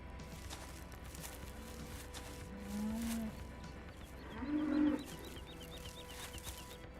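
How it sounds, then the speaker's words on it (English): Cattle in the Farming Simulator video game give two short, quiet moos a second or so apart over a faint farmyard ambience. "We'll buy 10 cows, yes. There they are. Hello, moo cows."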